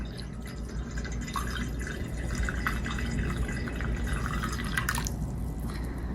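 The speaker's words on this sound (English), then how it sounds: "take the hot water, pick a corner of the dish, and pour it into that cold water." Hot water poured into a corner of a dish of cold water for an ocean currents experiment, a steady close trickle with dripping splashes running for about six seconds, without voices.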